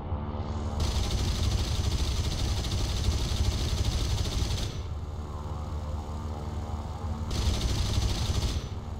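A damaged Soviet aircraft engine drones loudly and continuously in War Thunder, in a Tier 5 arcade air battle, with a hissing upper layer that cuts out and returns partway through.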